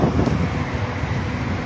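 Strong wind blows along Sheikh Zayed Road in Dubai, a loud, steady broadband roar with gusty buffeting on the microphone and a low rumble of passing traffic beneath it.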